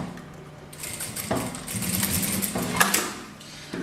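Sewing machine stitching fabric scraps into a patchwork rug, a close mechanical whirring hum that starts after a brief quiet moment and runs steadily with slight speed changes.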